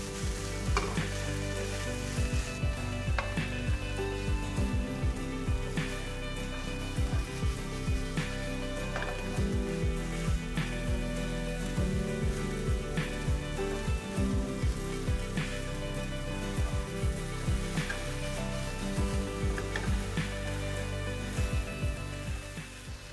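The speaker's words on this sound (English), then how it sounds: "Saute for 5 to 7 minutes." Crumbled tofu sautéing in a pan, a steady loud sizzle and crackle with repeated scraping stirs breaking through at irregular intervals, continuing throughout without voices.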